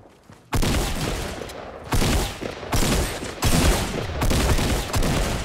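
Shotgun blasts in the video game Fortnite ring out in four loud, evenly spaced bursts, each followed by a dense rattling roar, heard close with no talking.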